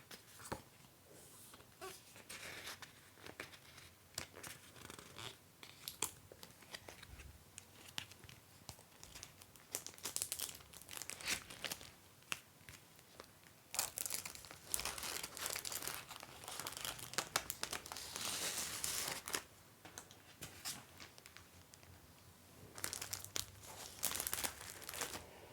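Plastic packaging crinkled while stationery is sorted, soft close crackling and rustling in irregular bursts, quiet and intimate with no talking.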